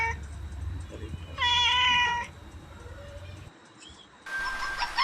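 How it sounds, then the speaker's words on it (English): A cat gives a clear, drawn-out meow, close and moderately loud, followed later by a second brighter call, with faint bird chirps in the quiet background. "cat,"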